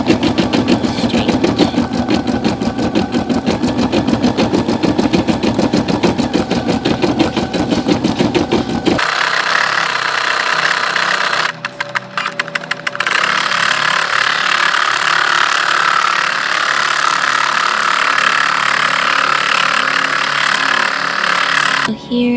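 Embroidery machine stitching a design outline onto black fabric, a steady rapid mechanical whir with dense rhythmic needle ticks for the first nine seconds, then dropping to a quieter hum with brief clicks.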